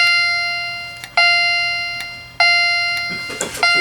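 A clear electronic chime from a Wheelock CH70 chime strobe fire alarm at medium volume rings out in sustained tonal bursts, restarting about every second and a quarter, each tone slowly fading before the next strike.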